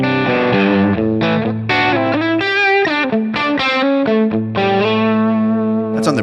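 Electric guitar on the bridge pickup of a Vigier Expert Strat, played through a Line 6 Helix Brit Trem preset without delay, giving distorted, driven chords and bright single notes in a rhythmic, continuous phrase.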